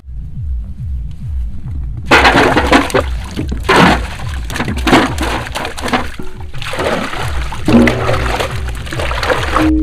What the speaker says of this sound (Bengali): চলো আলুটা ভালো করে পরিষ্কার করে ধুয়ে নেবো আমরা চিপস তৈরি করার জন্য সুন্দর করে।